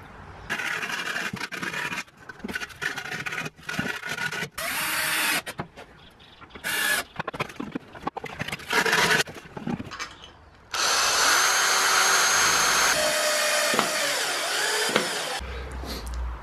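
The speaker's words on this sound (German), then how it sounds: "Und dann schrauben wir die Schose mal zusammen." A power drill drives screws to assemble a homemade low-budget 230V drinker heater for chickens, with close stop-start whirring bursts and scraping handling noises, then a longer sustained run near the end.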